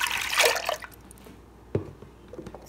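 Milk poured into a heavy pot at home to make yogurt, a brief splashing pour at the start that quickly fades, followed by a few faint clinks and drips close by.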